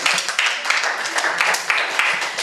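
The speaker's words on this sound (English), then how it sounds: "Give this Mataji a round of applause" A seminar audience on forgiveness in Guyana gives a round of applause, with lively uneven clapping from a smaller group that pulses in close bursts and some voices mixed in.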